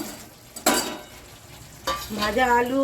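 Potatoes and fried soybeans sizzle in a hot pan of masala with two bursts of stirring scrapes, and a short tonal squeal rises near the end.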